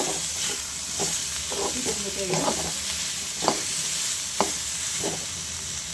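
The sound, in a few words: frying and stirring tomato with ivy gourd for chutney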